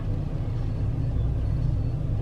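Cars in heavy traffic on a bridge, a steady low road rumble of engines and tires continuing throughout, close and fairly loud with no talk.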